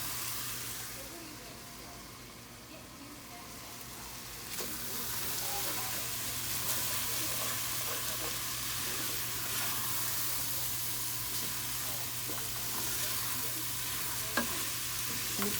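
Garlic frying in a pan for kitchari while being stirred, a soft continuous sizzle with scraping stir strokes and small clicks throughout, fairly quiet and close, with a low steady hum underneath.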